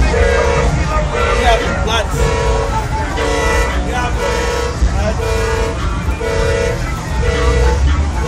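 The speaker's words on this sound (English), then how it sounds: "But that's a train." A passing train sounds its horn in repeated steady blasts over loud, rumbling background noise and crowd chatter at a 2012 car show, the tones recurring about once a second throughout.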